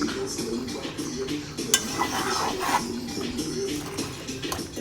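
Stirring a pot while cooking Sunday dinner: close, soft scraping and clinking of a utensil against the pot, irregular and steady, with a faint background hum.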